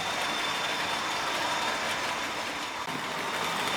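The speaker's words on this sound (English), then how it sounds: "here's the 37 going through, and shortly you'll see the 40 going round this radius 2 curve point" A model Class 37 locomotive runs round a very tight radius 2 curve on a model railway, giving a steady, continuous mechanical whir and rumble that holds at an even level throughout.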